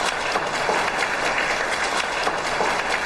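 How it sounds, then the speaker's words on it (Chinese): Warm applause from wedding guests fills the hall, a steady dense wash of many hands clapping at once, even and sustained with no voices standing out. "下面我们用热烈的掌声有请欧阳先生和徐思雨小姐上台。"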